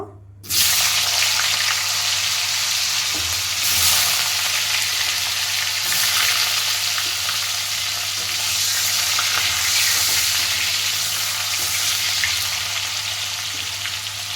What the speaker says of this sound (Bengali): এবার সেই তেলে আমি আলুটাকেও ভেজে নেব